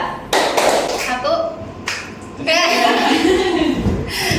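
Students in an Indonesian classroom clap a short rhythm together, sharp bursts of group claps separated by pauses, with a teacher's voice and some chuckling between them.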